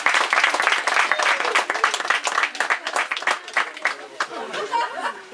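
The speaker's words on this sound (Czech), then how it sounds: "Bych poprosil potlesk Mirovi," A crowd at an outdoor Škoda Fabia car meet claps loudly and rhythmically for a participant, with chatter and a little laughter mixing in as the applause thins out toward the end.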